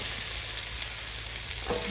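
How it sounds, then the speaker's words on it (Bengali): Fried pointed gourd and potato pieces hit a pan of cooked-down masala, giving a steady, close hiss of sizzling oil with faint stirring and no voices. "আর এইদিকে পটল আর আলু খুব সুন্দর করে ভেজে নিয়েছি"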